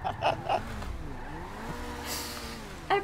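Car in a video game, engine drone with shifting pitch and tire squeals, short bursts of sound at the start and end, heard close with no talking.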